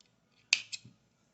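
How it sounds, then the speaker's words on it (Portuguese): One close, crisp snip of scissors cutting crochet yarn while making an amigurumi bear, a sharp cut followed by a small second click, alone in quiet. "Agora, aqui a gente vai cortar o fio."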